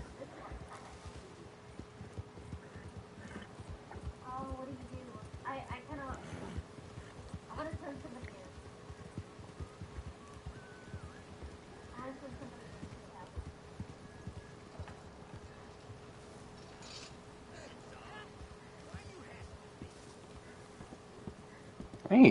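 Faint rhythmic hoofbeats of a horse in the video game Red Dead Online clip-clop steadily in the background while a person talks quietly over them.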